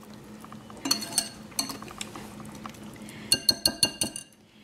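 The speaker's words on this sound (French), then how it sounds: "Je mélange bien." Yogurt raita seasoned with salt and pepper being mixed in a bowl, a spoon clinking against the sides in two bursts of quick, bright taps, close and clear with no talking.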